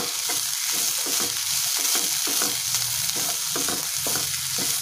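Spices, green chillies and grated coconut being stirred in a hot pan, with a steady background sizzle and repeated rhythmic scrapes of the spoon, close and alone.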